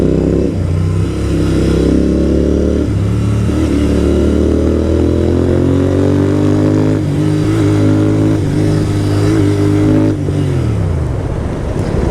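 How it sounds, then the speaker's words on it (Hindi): A Royal Enfield Continental GT 650 motorcycle with an aftermarket exhaust revs hard and loud up close, its engine pitch rising and falling in repeated pulls before dropping away at the end. "क्या रोर कर रहा है यार गाड़ी"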